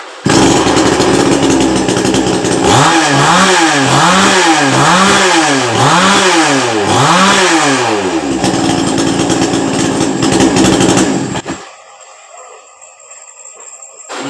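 A wood-cutting chainsaw, being tuned because it bogs under load, starts up and runs loudly nearby, its engine revving up and down in repeated surges before dropping away to near quiet at the end.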